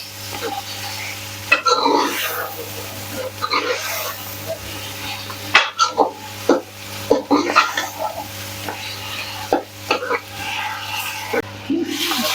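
Ginger paste lightly frying in a pan for aloo gosht, a steady sizzle with intermittent stirring scrapes and clatter, close and moderately loud, with a faint hum underneath.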